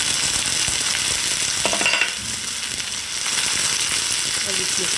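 Vegetables with turmeric, and then peas, are fried and stirred in a pan for aloo gobhi sabji. A steady sizzle briefly dips midway, with scraping stir sounds and faint background voices.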